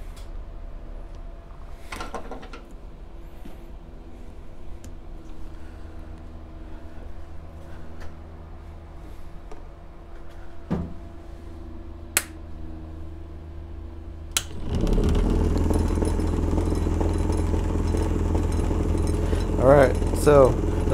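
A small electric Newman motor on a workbench, part of an old commutator comparison rig, is switched on after a few clicks and then runs with a loud, steady hum and whir.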